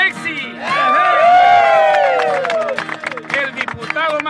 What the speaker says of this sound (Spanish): Quiero un fuerte aplauso para Pepsi,